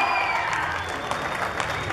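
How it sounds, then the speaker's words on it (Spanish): Crowd applauding a pageant princess at a spring fair, brisk continuous clapping with a few cheers in the background. "El aplauso también para ella."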